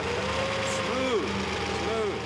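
A Bugatti Type 57C Atalante engine runs at a steady idle close by while people talk over it.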